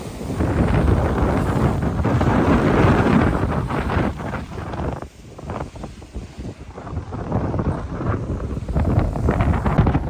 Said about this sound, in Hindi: यहाँ पे बहुत ज़्यादा तेज़ हवा चल रही है। हवा की वजह से आवाज़ का डिस्टॉर्शन रहेगी